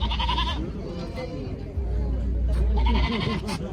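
Goats bleat repeatedly, loud and close, at a livestock market, with a low rumble and people talking in the background.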